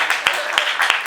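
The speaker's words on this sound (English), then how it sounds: "Hey, applause for my mum." A comedy talk audience applauds a performer's mum, with brisk continuous clapping at fairly close range and a few sharper individual claps standing out.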